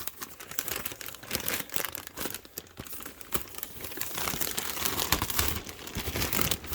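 Close, continuous crinkling of a plastic bag, irregular bursts of rustling as it is handled, with no talking.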